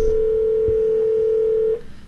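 Steady telephone dial tone on a call line trying to reach a racing talk-show guest, holding loud and unbroken for nearly two seconds before cutting off into quiet line noise.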